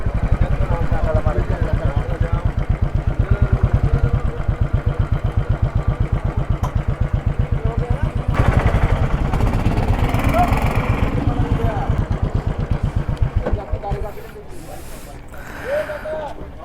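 Motorcycle engine running with a steady, throbbing idle pulse near a beach in Mumbai, then easing off and fading toward the end as other quieter sounds emerge.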